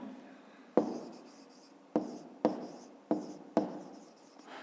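Five sharp taps and scratchy strokes of a pen on paper while a fifth-grade maths exercise is written out by hand, each stroke close and crisp with quiet pauses between and no talk.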